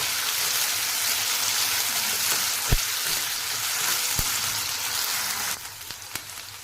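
Potatoes frying in oil in a pan on a high gas flame, a steady close sizzle throughout with a few sharp pops and clicks, easing slightly near the end.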